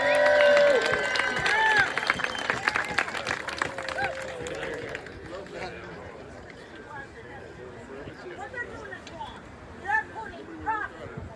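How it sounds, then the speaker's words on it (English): At a protest rally against downsizing at Franciscan Health Hammond, an outdoor crowd breaks into applause and cheering that swells loudly and then thins into scattered claps amid chatter. "Could you give her a big round of applause?"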